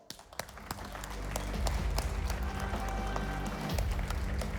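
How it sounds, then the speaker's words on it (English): Audience applause at a Computex 2017 press event for ASUS ROG, a dense wash of clapping that swells in the first second and holds steady and loud, with a few sharp claps standing out. "give them a big round of applause"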